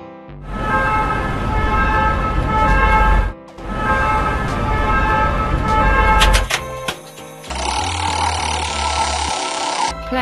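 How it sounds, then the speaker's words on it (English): Ambulance siren effect from a children's vehicle-learning game: a loud, sustained wailing tone with strong harmonics in two long bursts, separated by a short gap, then a different tonal sound at the end. "Ambulance."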